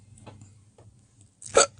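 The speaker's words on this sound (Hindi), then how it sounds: "यार हिचकियां लग गई हैं मुझे" A single sharp hiccup from a person rings out at the end, loud and close, after a quiet stretch with a couple of faint breathy sounds.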